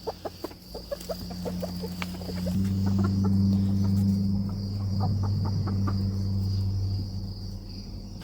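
Chickens cluck softly in short, scattered calls at their roost, with a steady insect-like drone and low humming tones underneath, fairly quiet and nearby.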